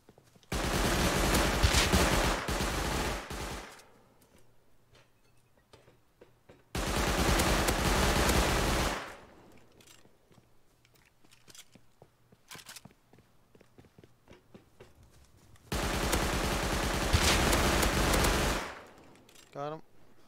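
Automatic gunfire in the video game Rust comes in three long, loud sustained bursts separated by quieter gaps with faint footsteps and movement, and a brief burst begins right at the end.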